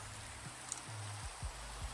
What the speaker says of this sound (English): I freeze in the rain?